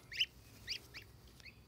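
Three young domesticated geese on their first outing give a few soft, high peeping calls in quick succession, faint and close against a quiet background, with no talking.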